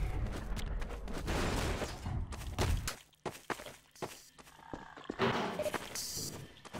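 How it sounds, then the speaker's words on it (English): Rapid bursts of video game gunfire crackle and thud in uneven clusters, loud at first, then thinning into scattered sharp reports with brief quiet gaps. "I haven't heard the gunfire stop in minutes"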